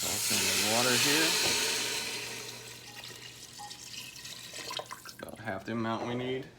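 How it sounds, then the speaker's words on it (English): Water poured into a pot for lentil soup: a steady hissing pour at moderate loudness for a couple of seconds that tapers off, with a person talking before and after. "Toss in the water here."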